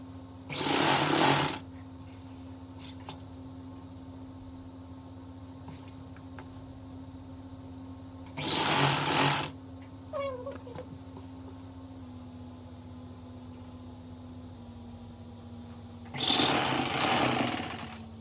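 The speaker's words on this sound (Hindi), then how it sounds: "इसलिए पहले मैं इसके अंदर सिलाई लगा लेती हूँ" A sewing machine stitching silky lehenga fabric runs in three loud bursts of about a second each, separated by longer pauses, over a steady low hum.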